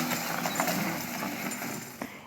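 Working horse hauling logs in a forest, hooves clip-clopping in a few soft, uneven steps at moderate distance over faint background noise.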